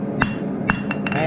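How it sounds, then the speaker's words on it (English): A blacksmith's hammer strikes a dinner bell being forged on an anvil, giving a few bright metallic clanks at an uneven rhythm, with two loud ringing blows and softer taps, close and alone. "hammer, rotate it, hammer, creating that lip right here"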